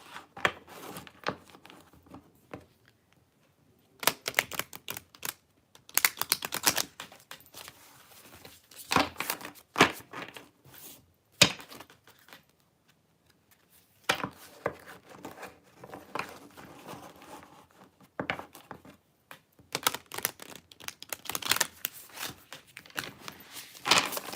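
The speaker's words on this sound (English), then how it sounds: "I'm going to go ahead and shuffle, clear the energy in the cards." Bursts of papery riffling and shuffling of oracle cards come in short irregular runs with quiet gaps between them, close by and fairly soft.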